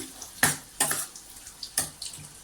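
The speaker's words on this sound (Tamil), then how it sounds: "ஒரு 1/2 டம்ளர் தண்ணி மட்டும் ஊற்றி," Water splashes into a hot pan of pepper chicken in a few short bursts, with brief sizzling and clattering between pours.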